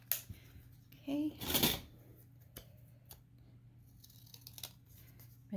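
Scissors cutting a craft piece for a spring cluster, a short run of quiet snips close by, then faint scattered handling noises against a low background hum.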